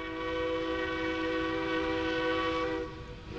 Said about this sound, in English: 473, the train's coming in now.